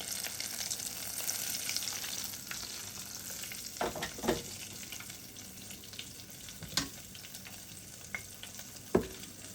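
Banana blossom pieces frying in a little oil, a steady close sizzle with a few scattered clicks and scrapes of stirring, no talking.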